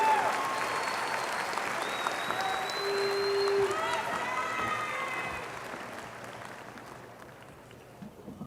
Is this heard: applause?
yes